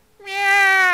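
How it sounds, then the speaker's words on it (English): One cat meow from the Nekopara video game, loud and close, rising and held for about a second. "That's an interesting meow."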